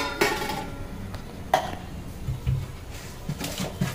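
Ground corn batter being mixed by hand with chopped curry leaves and coriander in a bowl, with a few sharp knocks and scrapes against the dish over soft, intermittent mixing noise.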